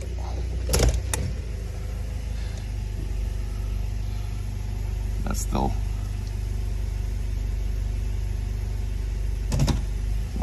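A Toyota Hilux 2.7-liter 3RZ-FE gasoline engine idling low and choppy under load, a steady rumble with a few sharp clicks and knocks, while someone talks briefly over it.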